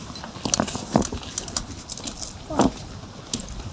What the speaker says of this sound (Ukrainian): І тут на тобі дощ.